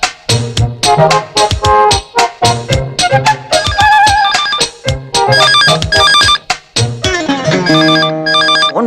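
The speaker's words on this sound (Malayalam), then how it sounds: "ഫോൺ വരാൻ കണ്ടൊരു നേരം." A telephone ringtone plays loud and close, a bright electronic melody repeating in bursts with short pauses between phrases, with no talk over it.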